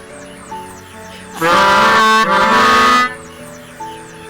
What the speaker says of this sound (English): I'm still just gonna honk